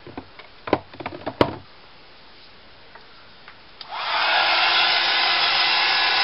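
A hair dryer switches on and runs steadily at close range, drying a craft piece after a few sharp knocks and taps on a board.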